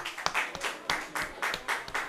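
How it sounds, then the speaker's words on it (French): Scattered audience clapping at a women's leadership movement launch in Mali, a few hands giving quick uneven claps, fairly faint and short. "Applaudissez-la."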